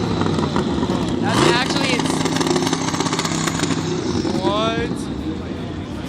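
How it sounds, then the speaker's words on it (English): A BMW M4 engine runs loudly at a crowded car meet, a steady throaty drone with rising and falling revs, while people talk and exclaim close by. "That engine is insane."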